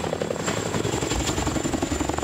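A firefighting helicopter used for fire season training, heard close and loud with a steady rotor thrum and high engine whine that runs throughout without a break.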